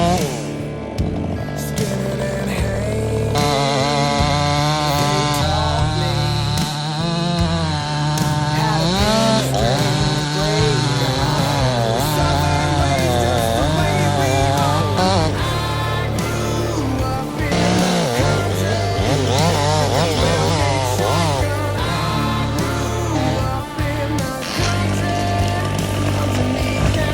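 A chainsaw cuts windblown and rotten trees in the backwoods, its engine loud and close, revving and bogging in waves through long cuts, with a rough idle between passes and no clear voices.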